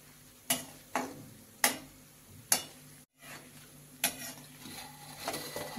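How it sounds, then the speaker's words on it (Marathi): Coconut frying in a pan for poha chivda: a handful of sharp, spaced crackles and pops over a quiet, faint sizzle, with the crackling turning denser toward the end. "खोबरं तळून घेऊया"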